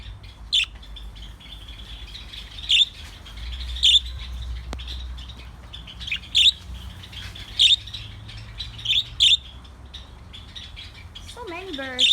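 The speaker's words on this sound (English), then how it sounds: "As you can hear, there are many birds right now." Many wild birds chirp and call together outdoors: sharp, repeated tweets and short bursts ring out every second or two over a steady background twitter, fairly close and clear, with no talking.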